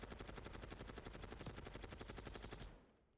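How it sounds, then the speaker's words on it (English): An XMG gun in Warzone fires a fast, even stream of shots at targets, a sustained burst of about twenty-five rounds that cuts off abruptly near the end, followed by a fading echo. "And then we have the XMG, which I think is one of the straighter shooting guns"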